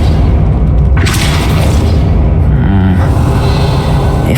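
A Depulso spell in the Hogwarts Legacy video game gives a loud, sustained booming blast with a rushing burst about a second in and more thuds and rumble following.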